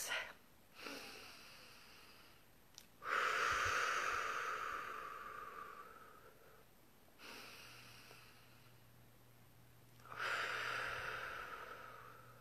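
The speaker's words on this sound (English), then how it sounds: "So let's take 3 deep breaths." Slow deep breaths during a guided relaxation: three long, soft inhales and exhales, faint and close, with quiet gaps between them and no talking.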